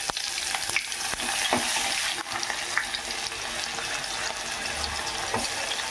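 Onions, curry leaves and turmeric fry in hot oil for an Andhra-style dondakaya fry, giving a continuous close sizzle broken by occasional sharp crackles and stirring clicks.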